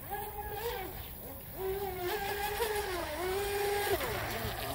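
A 17-inch self-righting brushless RC boat motor spools up from a standstill, its whine rising and falling in pitch as it accelerates across the water, loud and close throughout with a voice cutting in briefly.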